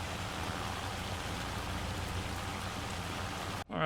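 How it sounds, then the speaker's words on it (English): Hail pelting down steadily on a farm during haymaking season, a dense, loud, continuous patter close by that cuts off abruptly near the end before resuming. "That hail finally decided to show up."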